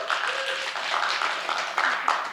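Scattered audience clapping at an Indigenous speakers series talk, a light, patchy patter of hands that rises and falls across a couple of seconds, moderately distant in the hall.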